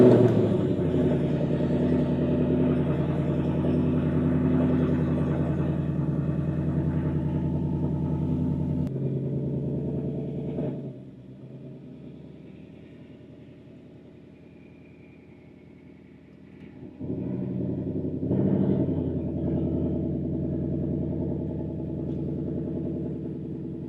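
A 2024 Mustang GT rolls back under its own power, a steady deep engine rumble that dips quieter for several seconds midway before swelling again, heard fairly close.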